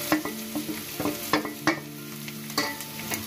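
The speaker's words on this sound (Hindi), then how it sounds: "गैस को मीडियम आंच में रखकर आलू को खूब अच्छे से भून लेना है।" Potatoes fry and get stirred in a pan over a medium flame for masala dosa filling, making a steady sizzle broken by repeated close scraping strokes of the spoon, with no voices.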